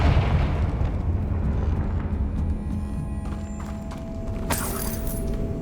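Confringo fire spell cast in Hogwarts Legacy, a rumbling explosive burst with a sharp bright flare near the end, over a steady low mechanical game ambience.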